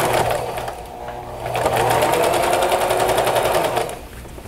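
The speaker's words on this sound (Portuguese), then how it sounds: "Vamos costurar com a medida menor que o pé de máquina." Sewing machine stitching a seam in fabric while making a small cloth drawstring bag, a steady fast whirring run that grows louder in the middle and stops toward the end, with no talking.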